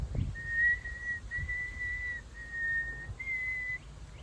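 Someone whistles while breathing in, four steady sustained tones in a row, each separated by a short pause, faint and close, with soft breathy puffs underneath.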